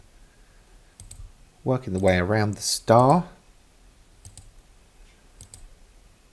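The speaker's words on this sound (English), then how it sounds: "So just left clicking at each intersection to set my point" Soft, sparse computer mouse clicks while setting points in machine embroidery software, a few isolated taps around a short stretch of close speech.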